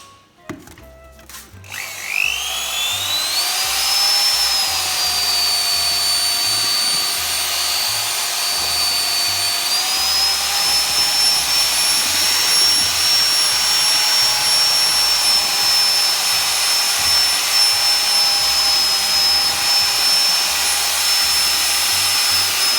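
A power mixer blends Plastifloor SL filler into liquid resin for a floor installation. Its motor spins up after a couple of seconds into a loud, steady high-pitched whine that runs unbroken, with a low churning rumble beneath and no talking.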